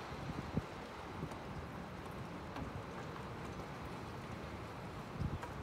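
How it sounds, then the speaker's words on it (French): Strong wind gusts during a storm in Lille, reaching 95 km/h, produce a steady, broad outdoor roar with brief buffeting thumps against the microphone and no distinct voices. "Quoique, ouais, on a de bonnes petites rafales tout de même."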